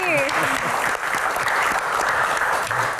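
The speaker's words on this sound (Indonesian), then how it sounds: "Kita berikan tepuk tangan yang paling meriah untuk Gian dan Pak Muhadjir Effendi." An audience at an evening Q&A event in Indonesia breaks into loud, sustained applause, dense clapping filling the room while a host's voice rises briefly over it at the start.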